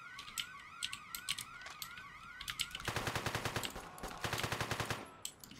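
Rapid bursts of automatic gunfire in the video game One-Armed Robber, dense rattling volleys in loud clusters that intensify and fill the second half, with no talk over them.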